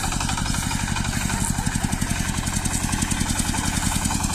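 A six-year-old Shifeng 240 tractor engine runs close by, a loud, steady diesel chug with a fast, even knocking pulse throughout.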